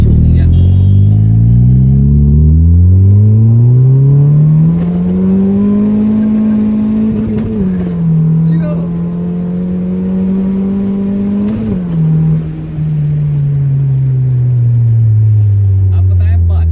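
A car pulls hard from second gear on a wet road in the rain, its engine climbing in a loud rising drone, easing briefly at a shift, then rising again before falling away; voices talk over it.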